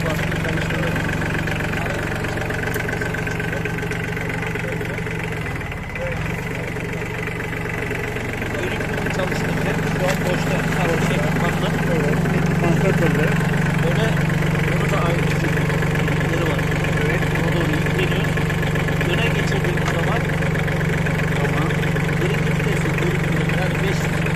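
A tractor engine idles steadily throughout with a constant low hum and a faint knocking rhythm, close by, while people talk over it.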